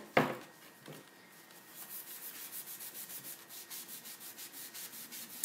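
A board eraser rubbed back and forth across a surface, making faint, rhythmic scrubbing strokes at a steady pace after an initial soft knock, close and quiet with no talking.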